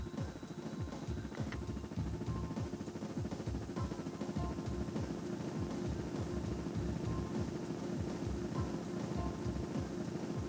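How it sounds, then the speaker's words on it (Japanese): A helicopter arrives in the mecha game Armored Core: Project Phantasma: a steady, loud, low rotor chop with a rapid regular beat continuing throughout. "その位置でヘリが来るまで待機して。到着したようね。"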